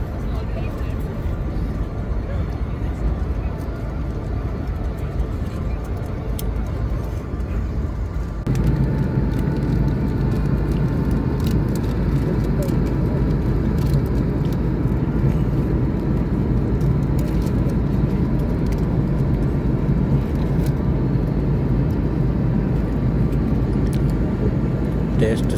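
Air India airplane cabin in flight, a steady loud low engine roar that deepens partway through, with faint talk in the background.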